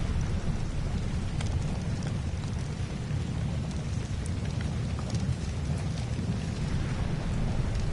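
Downpour in the video game Ark Ascended, a constant dense rain hiss layered over deep thundery rumble, loud and even throughout with scattered crisp droplet spatters and no talking.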